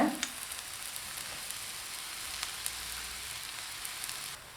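An eggless vegetable omelette fries in oil in a pan, giving a steady, even sizzle and hiss that holds for the whole stretch, with no talking.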